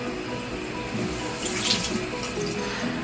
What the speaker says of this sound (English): So I'm just going to turn on some water